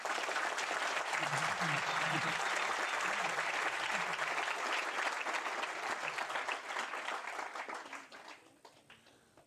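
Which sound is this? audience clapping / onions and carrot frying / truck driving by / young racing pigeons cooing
audience clapping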